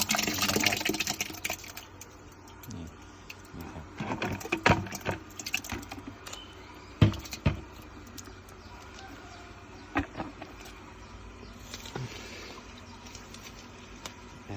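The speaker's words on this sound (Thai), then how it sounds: "ใส่ น้ำ ครับน้ำ เพิ่มน้ำลงไปนะครับ" Water pours into a mix of termite-nest microbes and rice bran, with splashing, pattering bursts and scattered knocks heard up close, along with faint birds in the background.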